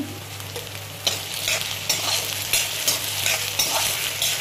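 Green chilies stirred and frying in a pan with potatoes and whole peanuts, giving a steady close sizzle broken by several clattering stirs, with no talking.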